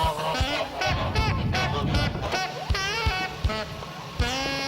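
A large flock of geese on a research institute's goose farm in Suzdal honks loudly and continuously, many overlapping nasal calls from close by forming a dense, noisy chorus.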